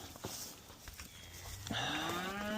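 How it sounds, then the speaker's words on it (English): A herd of black cattle, including an Angus and weaned calves, stands in a Texas field; after faint rustling and shuffling, one cow lets out a clear, drawn-out moo that carries to the end. "A lot of black cows in here."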